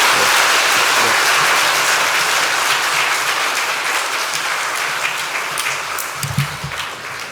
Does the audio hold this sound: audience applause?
yes